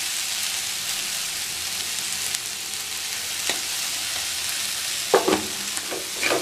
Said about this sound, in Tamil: நல்லா மிக்ஸ் பண்ணி விட்டாச்சு.